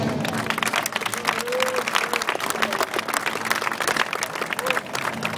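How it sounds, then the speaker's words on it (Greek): Audience applauding players at a live game-show event, steady dense clapping throughout with crowd murmur, fairly loud and continuous. "Μπορείτε να τους χειροκροτήσετε."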